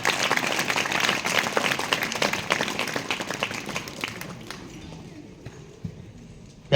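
Students and guests at a school alumni meet burst into a rapid round of clapping that fades away over several seconds, leaving quiet room noise and a few stray claps.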